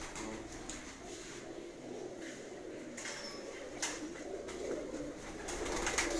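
Breeder pigeons coo softly in a loft, faint and intermittent against steady background noise, with no voices.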